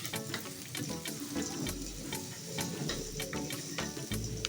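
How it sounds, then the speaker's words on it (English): Onions frying in a pan for a chicken wet fry, a steady close sizzle with frequent crackles and pops, moderately quiet and without talk. "continue to cook our onions"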